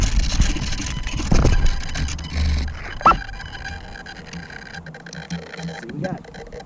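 A small E-Flight UMX Turbo Timber RC plane's electric motor runs through a full-flaps takeoff, heard from onboard as a steady buzzing whir mixed with rushing wind and rough broadband noise, with a louder swell partway through.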